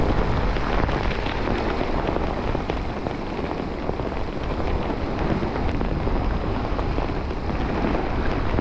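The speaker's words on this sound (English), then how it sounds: "Oh, that's heavy rain." Heavy rain pours down on the shore of Loch Etive by Ardchattan Church, a dense, unbroken roar of drops that stays loud and even from start to finish.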